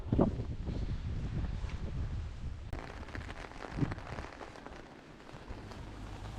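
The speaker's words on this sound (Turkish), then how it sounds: "yağmur yağmaya başladı gene" Rain falls steadily on an autumn village of German-style houses, a broad continuous patter and hiss with some wind noise, moderately near and without any talk.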